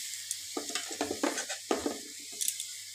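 Garlic paste going into a pan of sizzling chicken, followed by a few bursts of scraping and stirring over a steady low hum, close and moderately loud.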